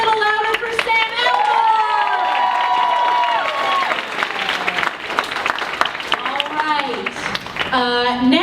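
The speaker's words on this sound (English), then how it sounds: "clap a little louder for Sam" Audience at a comedy show applauding and clapping for a comedian, a dense continuous burst of claps and cheers throughout, with voices chattering and shouting over it.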